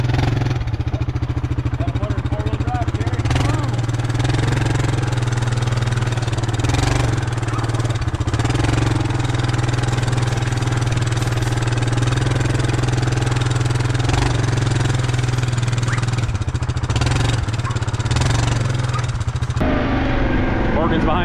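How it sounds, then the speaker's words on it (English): Four-wheel drive vehicle engine running steadily at a ranch while pulling ahead, a loud low rumble throughout with occasional clunks and knocks on top, and a voice speaking over it. "All right, we'll pull her ahead, then you can unhook me. Got a motor four-wheel drive, Gary."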